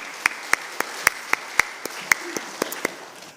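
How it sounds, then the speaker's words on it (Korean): A church congregation at a Wednesday mission-sending service claps in a sparse, fairly even rhythm of sharp individual claps, with one clapper standing out near and the rest soft behind. "우리 함께 영광의 박수 올리겠습니다"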